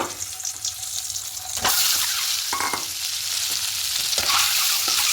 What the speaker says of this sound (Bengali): সর্ষের তেলে তেলটা গরম হয়ে গেছে এবার ডিমগুলো একসাথে দিয়ে দেবো